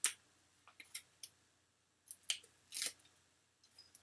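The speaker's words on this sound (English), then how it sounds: "I'll remove the backing off of the tape." Backing being peeled off tape during card making, heard as a few short, close crackling rips and clicks separated by quiet pauses.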